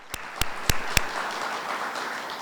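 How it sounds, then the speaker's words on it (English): A conference audience at a New Jersey cannabis entrepreneur event bursts into applause: a few sharp, separate claps open it, then it settles into a steady, moderately loud wash of clapping with no talk. "let's give her a round of applause for this."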